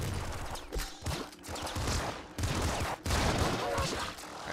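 Double minigun firing in the video game Nuclear Throne, a rapid, continuous chatter of gunfire in sustained bursts with brief gaps, mixed with game effects.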